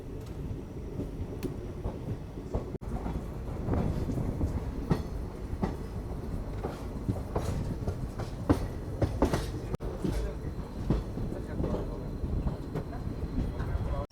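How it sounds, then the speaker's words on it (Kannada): The Mysuru–Talaguppa Express rumbles steadily as it enters Sagar, a loud continuous roar of wheels and carriages with rhythmic clicks and rattles heard from on board. "ಮೈಸೂರು ತಾಳಗುಪ್ಪ ಎಕ್ಸ್ಪ್ರೆಸ್ ಎಂಟ್ರ್ ಆಗೈತೆ ರೀ ಈಗ"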